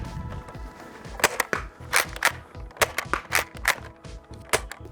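A Nerf Shark Seeker blaster, a three-round front-loading foam dart blaster, fires repeatedly in sharp, loud, irregular bursts of clicking pops and springy thwacks, close up with no talking.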